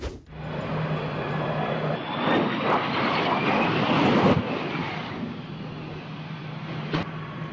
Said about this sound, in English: The plane continues making its way down the runway with flames spewing out of the underside.